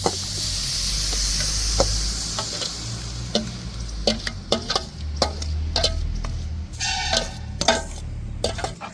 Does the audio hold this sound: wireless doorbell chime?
no